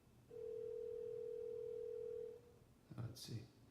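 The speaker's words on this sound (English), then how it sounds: "You can use it as a loudspeaker for phone calls." A telephone dial tone plays through an Apple HomePod speaker in a large room, one steady tone lasting about two seconds before it stops and some short clicking sounds follow.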